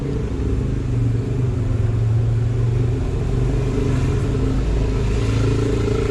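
Traffic on a busy one-way street in the Cinco de Diciembre neighbourhood of Puerto Vallarta, with cars and a motorcycle rumbling and revving close by in a continuous, loud wash of engine noise.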